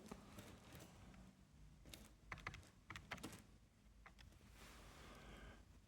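Faint, quick taps on a computer keyboard as numbers are entered, a few short close bursts of clicks over low background hiss with no speech.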